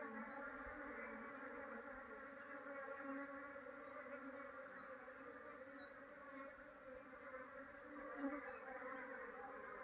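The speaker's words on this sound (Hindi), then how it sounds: "ये देखो दोस्तों, बहुत ही यहाँ भी मधुमक्खियाँ।" A large swarm of honey bees leaving their hive boxes, droning in a steady, even buzz that holds throughout with no voices.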